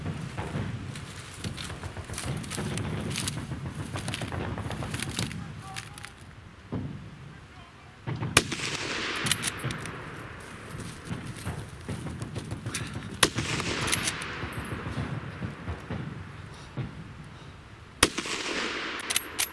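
Rifle shots from Lee Enfield No 4 Mk I* rifles crack out sharply at intervals, a few distinct loud reports spread across a stretch of background murmur and voices talking.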